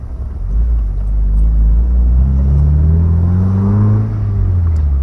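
A loud Mazda MX-5 engine with a Malian exhaust, bung fitted, rumbles close by and revs up, the deep exhaust roar climbing steadily in pitch as it accelerates.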